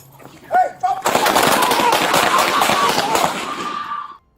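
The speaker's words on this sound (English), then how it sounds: "With only feet between them and no time left, officers fired." Police officers open fire in a rapid, loud volley of gunshots lasting about three seconds, preceded by a brief shouted voice.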